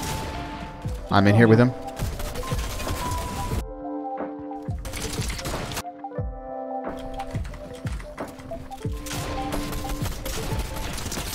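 Gunfire in the Fortnite video game, a burst of shots and scattered single reports heard beneath a player talking over the game's music.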